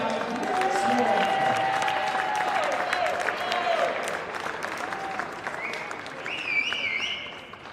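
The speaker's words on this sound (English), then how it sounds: "About one more round of applause for our 6 seniors" A basketball crowd at a college game between St. Francis (Ill.) and Indiana University South Bend applauds and cheers for a senior player in an arena. The sustained, dense applause runs throughout, with a few whistle-like tones near the end.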